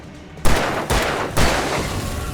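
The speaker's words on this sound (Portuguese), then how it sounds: "3 tiros a gente resolve o problema aí, ó." Pistol gunshots in the video game Alan Wake Remastered: three loud, close shots spaced about half a second apart, each with a boomy tail carrying into the next.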